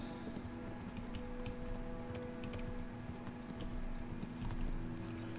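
Horse hooves clip-clopping at a steady riding pace in the medieval game Kingdom Come Deliverance, a continuous even rhythm under ambient game sound with no talk.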